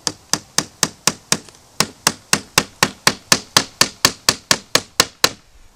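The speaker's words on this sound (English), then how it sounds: "I'm nailing through very thin pieces of wood" A hammer drives nails through very thin pieces of wood while a garden cold frame is prepared, about twenty sharp, evenly spaced strikes in a brisk steady rhythm, loud and close, with no voices.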